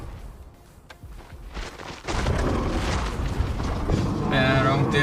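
Confringo explosion spell in a Harry Potter video game, a burst of rumbling blast and crackling debris that swells and lingers, with game sounds around it.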